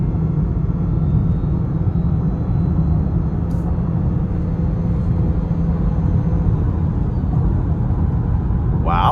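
A 2026 Nissan Rogue plug-in SL accelerates in power mode onto an interstate. Steady road and drivetrain rumble is heard from inside the cabin, fairly loud and even, with a brief voice near the end.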